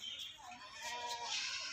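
A Nagri breed goat bleating on a livestock farm, a faint wavering cry that swells toward the end, heard at a distance.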